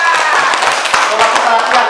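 Children clap their hands in a classroom, a burst of quick, uneven claps close by with chatter and voices mixed in.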